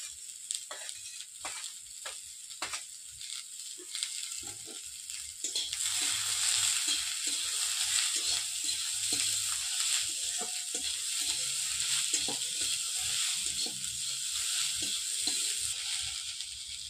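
Chopped beans frying in a pan for vegetable chops, first with a few sharp clicks and taps, then a steady close sizzle that holds evenly to the end with no talking.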